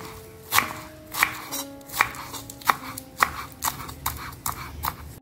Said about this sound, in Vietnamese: Mình sẽ cắt nhỏ nhỏ ra như thế này.